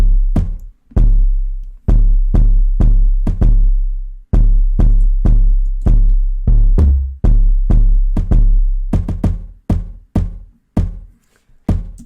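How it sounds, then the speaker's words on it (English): A kick drum stacked on a deep 808 bass drives a trap beat, with a steady run of heavy booming hits, some sustained and sliding and some quick and clipped, loud and alone with no voices. "And so we stack that on top of the 808."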